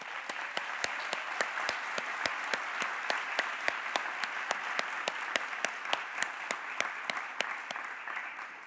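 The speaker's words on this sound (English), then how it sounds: "A big round of applause for our new members." A forum audience applauds new signatory cities joining the Milan Pact at a closing ceremony in Rio de Janeiro, steady dense clapping with sharp, regularly spaced claps standing out close by, continuing throughout without talk.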